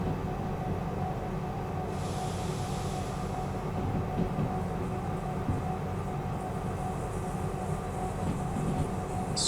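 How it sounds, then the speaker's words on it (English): Train wheels squeaking around a corner in the Derail Valley train simulation game, a steady loud rolling rumble with a high metallic squeal rising briefly over it, no voices. "Squeaking around this corner."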